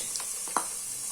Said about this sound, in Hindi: ये देखें हमारे प्याज जो फ्राई हो रहे हैं